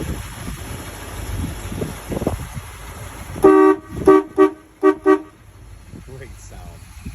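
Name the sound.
horn of a 1957 Chrysler Windsor car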